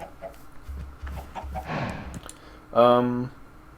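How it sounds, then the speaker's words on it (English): Chickens cluck on a farm in the video game Minecraft, a few short clucks and then one louder, drawn-out call near the end, set against quiet game ambience. "I made a chicken farm."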